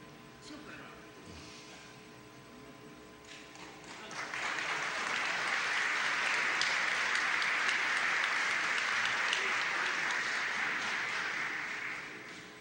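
Congressional audience applauding during a tribute to the 1975 Copa América champions: a quiet room gives way, about a third of the way in, to dense, sustained clapping that holds steady and then tapers off.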